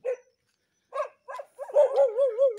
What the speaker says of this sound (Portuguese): Ó, cachorro bravo.